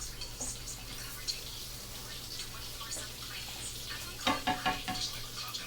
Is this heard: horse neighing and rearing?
no